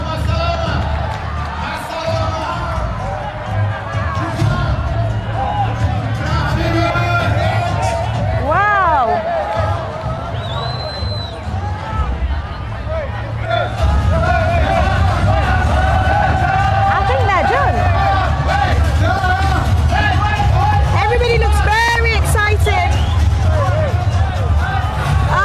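Large crowd of participants at a world-record jiu-jitsu lesson in Dubai, a continuous loud babble of many voices with occasional shouts and whoops, close and filling the space throughout.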